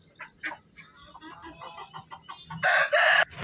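Aseel chickens in a home flock: a rooster crows loudly near the end, preceded by a series of softer clucks and short calls close by.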